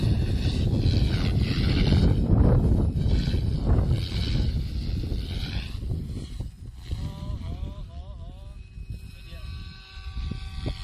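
Strong wind buffets and roars across the microphone outdoors while a small drone is flown. Voices talk over the rushing gusts, and a thin whining tone comes through toward the end.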